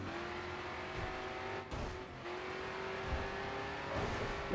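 Race car engine in a PS3 racing video game, straining at full throttle on two flat tyres; a steady loud droning motor tone runs throughout with a brief dip and small surges, no talk.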